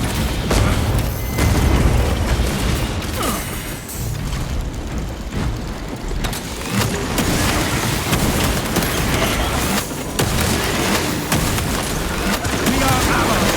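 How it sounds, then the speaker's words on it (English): Crack grenade blasts go off in the Warhammer 40k: Space Marine video game, with heavy booms layered over near-continuous gunfire and battle din across the whole stretch, loud and dense throughout. "Deploying crack grenade."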